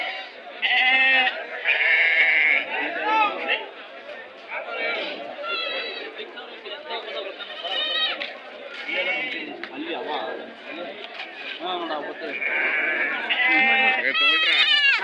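Goats and sheep bleating repeatedly and loudly at the Tumkur livestock market, many overlapping calls near and far amid crowd chatter and people talking.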